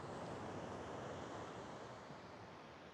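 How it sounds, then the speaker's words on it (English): Waves break close to the shore of a beach on the Gulf of Nicoya, a steady, soft wash of surf with light wind noise, faint and continuous without voices. "The water here breaks very close to the shore"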